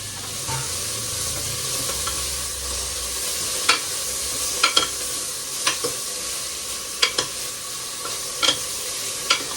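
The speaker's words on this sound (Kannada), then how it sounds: "ಪುದೀನ ಹಾಕ್ತಾ ಇದ್ದೀನಿ" Mint and coriander frying in a pan for mutton chops, a loud, constant close sizzle with sharp intermittent scrapes and taps of a stirring spoon against the pan, no voices.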